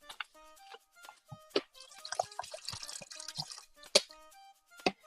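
Water runs and drips into a vessel for making coffee: scattered clear drips and plops, then a denser splashing, gurgling stretch in the middle, with a few more distinct drips at the end, close and fairly loud.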